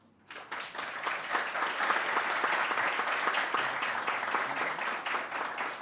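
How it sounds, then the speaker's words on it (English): Audience applause at an international conference on sustainable development, a sudden onset of dense, steady hand-clapping from a large hall that holds for several seconds. "thank you, audience, for such a grand applause"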